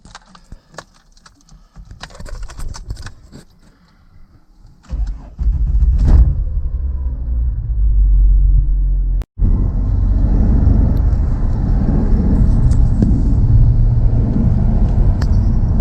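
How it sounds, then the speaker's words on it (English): A Ford BF XR6 with a troublesome clutch starts after some light clicking and fiddling, then its engine settles into a loud, steady rumble. A brief clunk is heard before it keeps running under load. "So we're going to fire this thing up."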